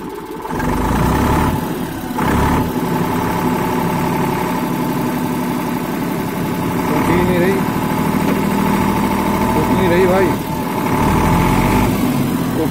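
An Eicher 485 tractor idling with a loaded wooden trolley hitched, a loud, steady low diesel rumble with slight pulsing, while a voice talks over it.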